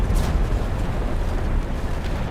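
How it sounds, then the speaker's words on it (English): An artillery shell explodes into a loud, sustained, rumbling roar that fills the whole moment without any talking. "Okay, that's an artillery shell."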